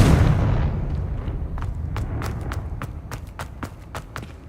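Confringo fire-blast spell cast in Hogwarts Legacy: a rumbling burst at the start fades into a low roar, followed by a string of sharp crackling pops and impacts.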